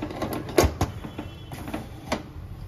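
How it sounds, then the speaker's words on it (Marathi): A pressure cooker lid is fitted and closed with several close metallic clacks and knocks, quiet between, with no one speaking. "आणि आता झाकण लावायचं कुकरचं"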